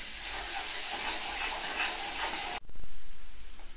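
Spices with Kashmiri red chili powder frying in a pan, a steady loud hiss and sizzle that cuts off abruptly, followed by quieter pulsing rumble.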